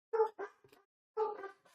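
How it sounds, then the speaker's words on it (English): Dogs bark in the background in two short bursts of several sharp, fairly faint barks, with a brief gap between them and no talking. "Sorry, everybody, for the dogs losing their minds in the background."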